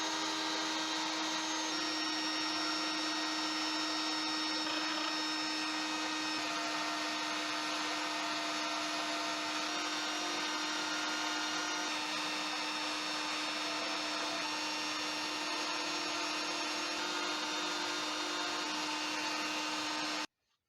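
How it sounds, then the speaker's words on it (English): Dremel rotary tool with a pointed bit carving detail into a Bondo body-filler crow sculpture, a steady high-pitched motor whine held for about twenty seconds, close and continuous, stopping abruptly at the end. "I'm going to try to take this pointy Dremel bit and carve in some of the details"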